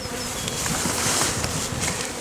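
Honey bees from a hive at a forest apiary buzz in a dense, continuous close-up hum with no voices.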